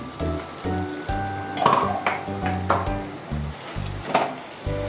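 Ground chili paste hits a hot frying pan for a Bengali poppy-seed prawn dish, giving a soft, steady sizzle with a few utensil clinks, partly masked by tonal background music.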